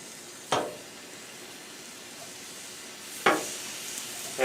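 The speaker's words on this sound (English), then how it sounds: "I like to hear that sizzle." N.Y. strip steaks sizzle on a Blackstone griddle, a steady close hiss of searing meat broken by two sharp bursts as the steaks are laid or pressed down.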